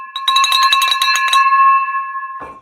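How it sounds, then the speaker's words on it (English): A bell is struck with a loud, bright metallic strike that rattles briefly, then rings on as a clear, sustained tone before cutting off abruptly, with no voices. "Ring that bell. Yeah, ring the bell"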